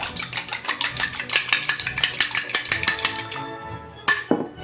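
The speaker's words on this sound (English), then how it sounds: "I'm going to whisk that up just with a fork" A fork whisks an egg in a bowl, giving a fast, even series of close clinking taps for several seconds before stopping, then one louder clink.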